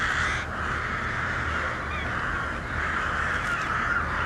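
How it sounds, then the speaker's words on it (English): Crows caw repeatedly over a steady background hiss, the harsh calls coming in a loose run from moderate distance with no speech. "It appears the birds are back and they're coming for revenge."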